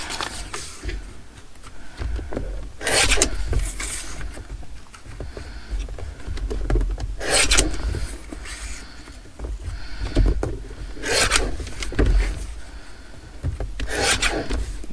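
Rough, rasping strokes come in repeated bursts as stamped art history cards are cut out by hand, close and fairly loud, with quieter rubbing between strokes and no voices.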